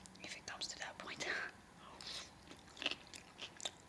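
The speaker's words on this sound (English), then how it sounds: "I tried to slurp there a bit." Someone eats crunchy pasta salad close to the mic, with soft crunches, smacking bites and brief slurping sounds, quiet and intimate, with faint whispery mouth noise throughout.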